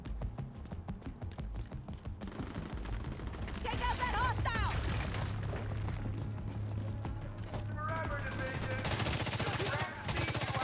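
Bursts of rapid automatic gunfire from a powerful, fast-firing gun in a video game, loud and continuous over several seconds with mechanical clatter between volleys.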